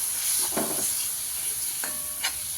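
Grated coconut being stirred into a frying masala in a pan for a Kolhapuri egg curry, a steady oily sizzle with a couple of brief scraping stirs, close and moderately loud, no talking.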